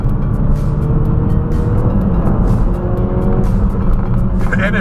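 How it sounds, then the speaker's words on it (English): Ford Focus RS exhaust popping and crackling in quick sharp bursts over a loud, steady engine drone, heard close up from the moving car. "And it pops and crackles."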